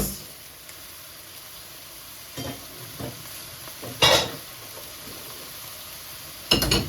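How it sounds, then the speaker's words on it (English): Shallots dropped into a wok for a vegetable stir-fry give a steady low sizzle, with a few brighter bursts of frying and stirring scattered through it. "So we are going to drop in the shallots."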